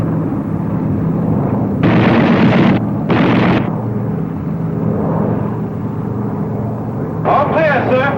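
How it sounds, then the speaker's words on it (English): Bomber machine guns test-fired in flight come in as three loud, rough bursts of rapid gunfire over a steady engine drone, and radio voices talk in between. "Okay to test guns."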